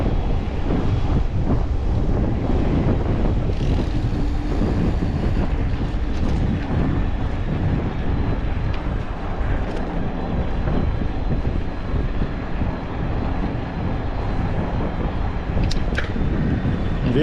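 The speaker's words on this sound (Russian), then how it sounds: "Ветер." Steady broadband roar of strong wind buffeting a microphone on a roadside in Crimea near Partenit, continuous and loud for the whole stretch with low rumbling gusts and no speech.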